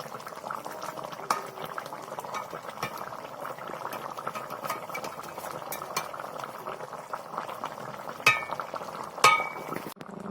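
Bengali rui macher jhal, a fish curry, simmers in a pan, bubbling steadily and softly, with a couple of sharp utensil taps near the end.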